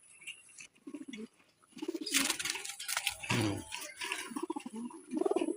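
Pigeons on a pigeon farm coo in soft, repeated throaty bursts close by, with a brief rustle or flutter in the middle and a faint high background hum.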